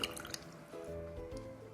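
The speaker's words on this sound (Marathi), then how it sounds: "साबुदाणा आणि भगरचे भिजलेले पाणी यामध्ये घालून पुन्हा मिक्सरला फिरून घ्यायचे" Soaked sago and barnyard millet water drips and trickles softly into batter for a moment, then a low steady rumble takes over as the mixer runs.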